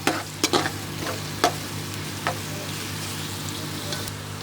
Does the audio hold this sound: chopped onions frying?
yes